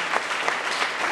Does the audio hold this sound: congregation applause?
yes